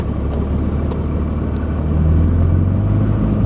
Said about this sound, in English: We're just gonna start driving here.